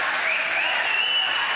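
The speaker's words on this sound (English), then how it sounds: "But a nice round of applause." Steady, loud applause from a crowd at a boys' varsity high school basketball game in a gym, continuous clapping with no breaks.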